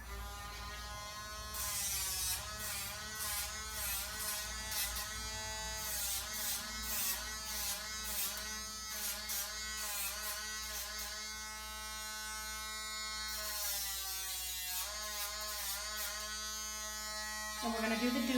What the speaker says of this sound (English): we spin the Dremel